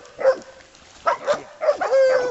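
Hunting dogs on a Tennessee hog hunt give sharp, yelping barks in three quick bursts, close by and fairly loud, with strained, whiny tones between the barks.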